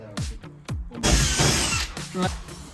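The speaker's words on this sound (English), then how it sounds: "so they've got to cut it out of the insulation." Power tool cutting a socket opening out of insulation in a shipping container being converted into a home, a loud buzzing burst of about a second between several sharp knocks and voices talking nearby.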